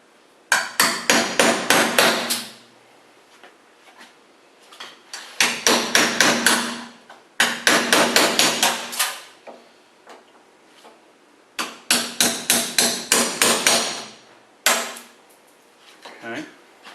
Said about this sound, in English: You just cut in the rivet, it pops right off.